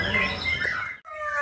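A white-rumped shama (murai batu) sings in a dense burst of bright chirps and trills, close and loud, with a brief break before the song resumes.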